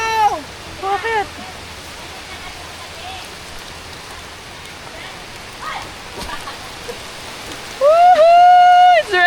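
Rain falling outdoors during a family tree-planting outing, a steady soft hiss of drops on surfaces, with children's excited voices and whoops breaking in near the start and end.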